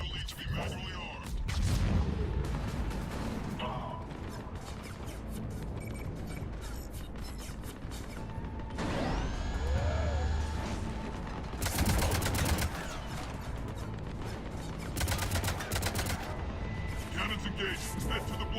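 Cannons in Mass Effect 3 are armed and fired: a series of heavy booming blasts and sharp bursts, some loud and near, mixed with mechanical whirs, sweeping electronic tones and a dense background of battle noise.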